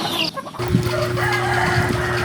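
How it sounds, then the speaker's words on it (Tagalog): Native hens cluck busily at feeding time in a farmyard, a dense, close flock chorus of overlapping clucks and calls over steady background noise. "pakainin na natin yung ating mga native chicken"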